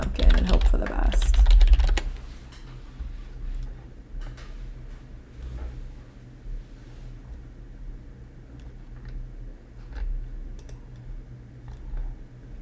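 Keyboard typing on a computer during a digital art visual development session, a burst of quick clicky keystrokes at the start, then sparse isolated taps over a steady low hum.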